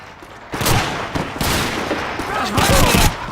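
Rapid bursts of submachine gun fire in the Call of Duty 2 World War II shooter, loud and close, firing in several sustained volleys with a voice talking over parts of it.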